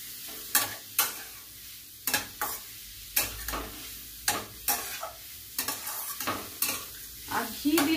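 Grated red carrots are stirred in ghee in a pan for winter halwa, with repeated scraping strokes of a spoon against the pan over a low, steady sizzle.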